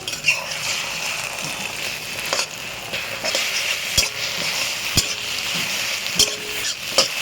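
An egg frying in a pan, swirled thin, for veg chowmein: a soft close sizzle with scattered clinks and taps of a utensil against the pan.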